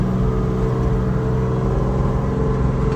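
Steady, loud engine drone from a 1973 American LaFrance Pioneer fire truck, a low rumble with strong harmonics that holds through three seconds and changes little as it is shifted toward fourth gear, no talking.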